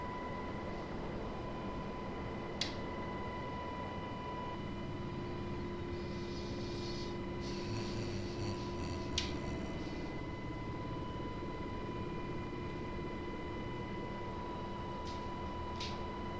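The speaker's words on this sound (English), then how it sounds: "as the helicopter gains speed" A helicopter engine in a flight simulator video game drones with a steady whine and constant hum, smooth and unchanging, with a few faint clicks and brief tonal swells over the long stretch.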